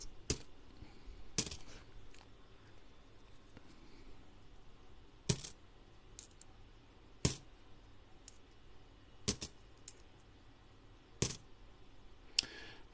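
Australian coins clink in short, sharp bursts about every two seconds while someone searches through a mixed batch, with quiet pauses between the metallic jingles.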